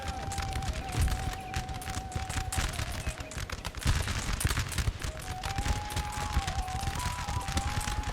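Volleys of musket fire crackle and boom in Napoleon: Total War, dense overlapping shots rolling continuously over a low rumble, loud and sustained with no pause.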